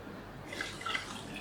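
Chicken stock pours into a saucepan with a soft, quiet liquid splashing and trickling, faint and brief with no talking.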